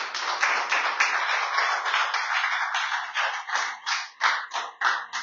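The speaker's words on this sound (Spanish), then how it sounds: "Damos un aplauso a Dios." Applause from a church congregation after a prayer, a dense burst of clapping close by that thins into separate rhythmic claps toward the end, with no other sound beneath.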